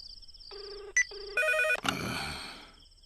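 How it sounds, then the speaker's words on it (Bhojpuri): A phone ringtone plays a short electronic melody of clear, stepped tones, fairly close and alone, before fading into a soft noisy tail. "कौन पपिया है टाइम में फोन करे रे? रिंग जाता।"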